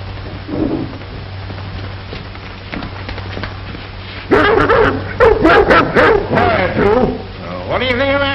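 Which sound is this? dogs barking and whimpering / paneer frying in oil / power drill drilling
dogs barking and whimpering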